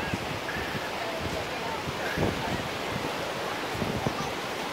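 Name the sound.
ocean waves and wind at Cocoa Beach Pier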